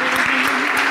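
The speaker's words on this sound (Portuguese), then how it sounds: "Então dê um forte aplauso ao Senhor." Church congregation giving a strong round of applause to the Lord during a worship service, a dense steady wash of clapping filling the whole second at full volume.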